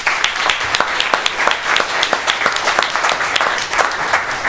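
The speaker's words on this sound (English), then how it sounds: "Give them a round of applause." Audience applauding a choir at a Black History Month celebration in Emeryville City Hall, California: lively, close clapping from a modest crowd with crisp individual hand claps popping out of a continuous patter.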